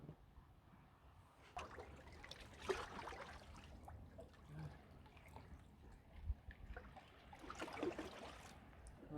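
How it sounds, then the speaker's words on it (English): Freshly caught fish, West Coast piper, being rinsed off in water at the shore: soft sloshing and trickling in a few uneven splashy bursts, faint and close, with a low background hum. "I'm going to go rinse these off in the water"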